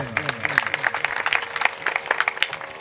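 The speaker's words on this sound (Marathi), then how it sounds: "एकदा आमच्या गणेश बाबासाठी टाळ्या वाजव सगळ्यांनी." An audience at a Marathi kirtan claps for Ganesh Baba, a dense patter of hand claps carrying on steadily over a lingering sustained musical tone.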